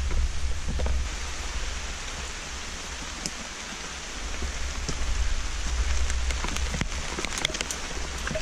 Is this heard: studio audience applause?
no